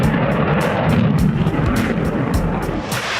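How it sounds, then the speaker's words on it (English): A jet engine roars with its afterburner lit, a loud, broad blast with rushing turbulence and a few sharp low thumps, filling the whole moment with no talk. "this jet is dumping fuel from the jet engine, creating a huge flame called an afterburner."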